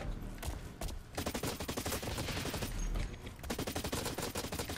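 Rapid automatic turret gunfire in the shooter game Blacklight Retribution, loud close bursts of fast rattling shots with a brief pause between volleys.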